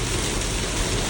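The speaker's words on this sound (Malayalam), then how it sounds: "നല്ല ബെസ്റ്റ് മഴയാണ്" Heavy rain drums steadily on a car during a drive near Mannuthy, a dense, even hiss with no pauses and no talking.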